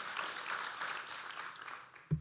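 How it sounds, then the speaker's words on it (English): Audience applause at a Marine Corps birthday ball at the Marines' Memorial, honoring the band and 23rd Marines: a soft, distant, steady patter of clapping that tapers off, ending with a low thump. "So a round of applause for the band and 23rd Marines."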